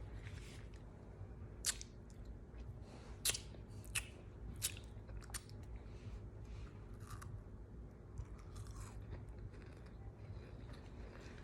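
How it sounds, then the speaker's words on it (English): Close, quiet crunchy bites and wet chewing on a cookie, with sharp crackles at irregular moments over a low, steady background hum. "I got this cookie. Yummy. ASMR."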